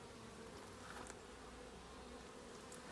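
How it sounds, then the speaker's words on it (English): Bees swarm around a hive whose honey has been removed, making a constant soft buzzing hum close by, with no talking. "Wow, there are all the bees."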